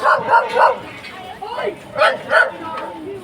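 Several sharp, close dog barks come in two quick bursts, with a pause between them and some vocal sounds in the background.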